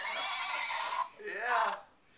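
A toy rocking horse plays a recorded electronic whinny, a close, tinny neigh lasting about two seconds with a wavering pitch, in a quiet room.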